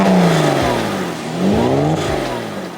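A Porsche 997.1 C4S with a center exit exhaust and Miltech back box revs hard and close. The engine note climbs, dips and rises again in loud, rasping sweeps.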